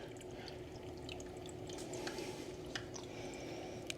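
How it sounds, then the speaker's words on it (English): A Tunze Osmolator 3 auto top-off unit pours water into an Innovative Marine aquarium, a faint, steady trickle and splash with a few soft drips near the end. "it takes just a few seconds to start pouring in some water"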